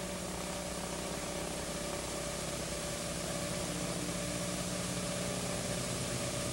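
Aerobatic airplane engine throttled back during an inside loop, a steady, loud, continuous drone with a low rumbling vibration and even hum throughout, no talk.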